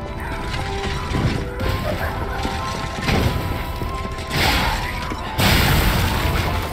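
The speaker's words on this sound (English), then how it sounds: "Now I can go and target these Muppets and throw the bombs." Bombs thrown and bursting in the action game Lies of P, with several heavy crashing blasts at intervals over constant clanking mechanical game noise, loud and close.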